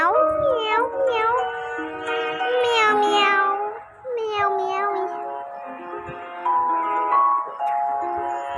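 A person imitates a cat's meow with repeated drawn-out, wavering meows one after another, loud and close, mixed with voiced talk.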